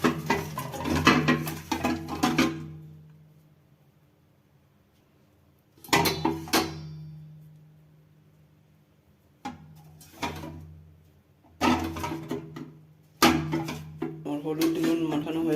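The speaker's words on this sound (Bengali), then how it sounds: "আমার হলুদ ডিম মাখানো হয়ে গেছে" Eggs being beaten with turmeric and salt in a bowl, a utensil clinking against the dish in several brisk bursts of rapid tapping, separated by quiet pauses, close and moderately loud.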